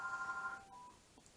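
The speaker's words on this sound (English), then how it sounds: "Why does my phone keep ringing in the background?" A mobile phone rings in the background with a steady electronic tone that holds briefly and then cuts off, fairly faint, with no speech over it.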